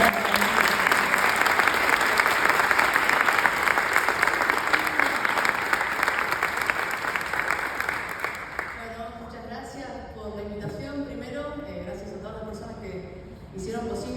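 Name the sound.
audience applause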